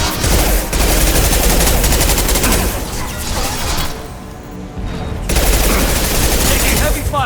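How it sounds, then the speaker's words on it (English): Heavy sustained gunfire from the video game Mass Effect 2 crackles in dense, loud bursts, easing briefly before the barrage resumes at full intensity. "Taking heavy fire."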